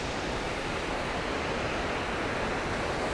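Steady broadband roar of a creek rushing below a steep forested slope, continuous and fairly distant with no pauses or talk.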